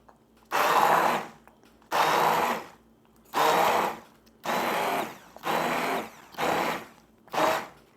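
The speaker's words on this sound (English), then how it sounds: "So we're just going to put the immersion blender in here" An immersion blender purees a pantry meal until smooth, running in seven loud, close bursts of whirring about a second each with short pauses between.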